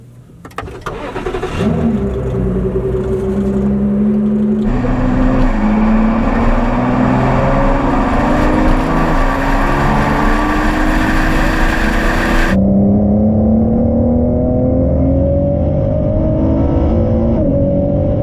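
A 2017 Ford GT supercar engine starts and revs hard, loud and close, climbing through rising pitch sweeps, dropping back, then surging again with no one talking.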